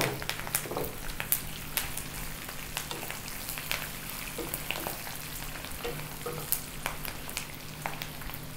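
Curry leaves and dried red chilies frying in oil alongside ginger and green chilies for curd rice, a steady close sizzle broken by frequent sharp pops and spatters, with no talk.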